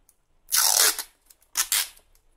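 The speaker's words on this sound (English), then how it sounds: "Then we take scissors and cut." Scissors slice through clear packaging tape for a palette of watercolor half pans, making two crisp tearing rasps close by, the first longer and the second split into two quick cuts.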